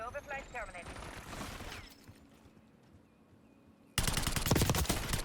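A PP-919 submachine gun fires in Black Ops 6, and a loud, dense automatic burst cuts in near the end after a stretch of talk and quieter game sound.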